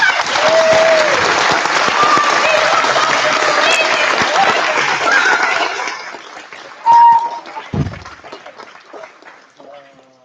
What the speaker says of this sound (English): If you clap hard enough, Hansel will live.